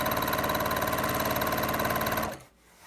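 A home sewing machine running fast while stitching sashing onto a quilt, a loud rapid even mechanical whir that stops abruptly near the end, followed by quiet.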